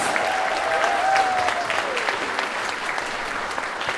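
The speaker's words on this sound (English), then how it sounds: "Give our juniors a nice big round of applause." A New York studio showcase audience gives a hearty round of applause for junior dancers at a summer dance intensive, sustained and even throughout, with a brief whistle or voice riding over the start.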